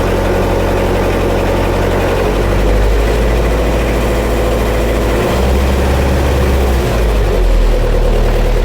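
A Scammell Scarab three-wheeled tractor unit's engine idles loud and close, a heavy low-frequency chug throbbing steadily with slight dips in pitch.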